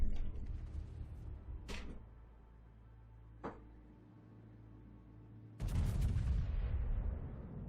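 The battleship North Carolina fires its guns in World of Warships: two sharp, isolated reports, then a heavy booming salvo that rolls into a long rumbling decay over a low background hum.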